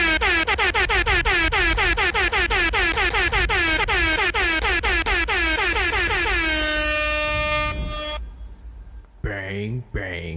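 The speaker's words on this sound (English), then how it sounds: "I'm gonna end on some air horns." Repeated blasts of an air horn sound effect, loud and harmonic-rich, pulsing in a rapid train of honks before a long sustained blare that cuts off, followed by a brief falling tone.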